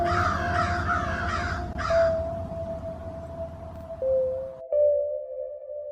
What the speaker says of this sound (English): finally a crow calling from the distance